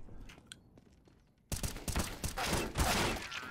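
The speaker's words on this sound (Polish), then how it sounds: "to był właśnie headshot Woskiego" Gunfire in a CS:GO match landing a headshot, a sudden loud burst of rapid shots cutting in after a quiet stretch of faint game ambience, continuing dense and close to the end.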